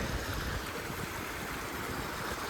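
Two or three small streams run through a meadow near Ramaroshan lake in far-west Nepal, giving a steady, close rush of flowing water with no pauses and no voices over it.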